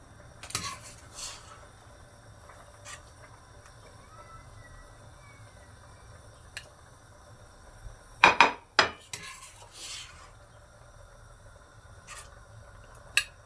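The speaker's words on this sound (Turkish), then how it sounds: "Bir sürü de bulaşığı çıkıyor bunun." Pots and dishes clatter in a few sharp bursts while being washed up, loudest in a quick cluster near the end, with quiet pauses between.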